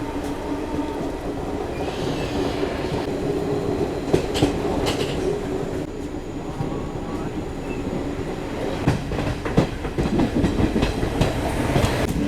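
From inside a coach of the 12878 New Delhi–Ranchi Garib Rath Express at speed, a steady rumble and rattle of wheels on rails, with rhythmic clickety-clack over joints and occasional squeals. Faint voices sit underneath.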